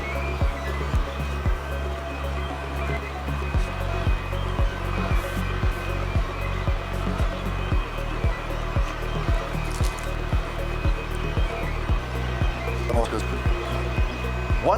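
An xTool M1 laser cutting machine runs a job with a steady whirring fan hum and a rapid, regular series of short mechanical ticks from the moving head, close and continuous throughout.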